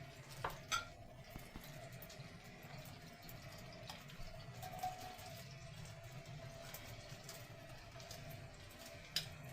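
Onions frying in oil in a pan, for a rice pilaf with chicken, with a low steady sizzle underneath and occasional utensil clinks and scrapes from stirring, fairly quiet throughout.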